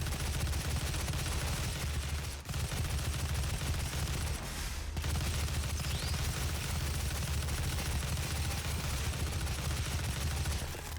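Rapid, sustained gunfire from Doom (2016) on Nightmare difficulty, a dense, loud barrage of shots with heavy low-end rumble running almost unbroken, with only brief dips near two and five seconds.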